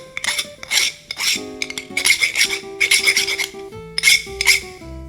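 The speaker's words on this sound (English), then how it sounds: "luckily it's easy to get rid of it. The burr, I mean. With a good file." A file working a burr off the connecting rod of a model vertical steam engine, several bright rasping strokes in an uneven rhythm, each with metallic ringing, close and loud with no talk.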